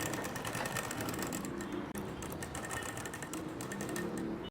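A sewing machine stitches layered pleats of a silk pattu pavadai skirt, whirring steadily and closely with a rapid mechanical rhythm and only a momentary hitch partway through.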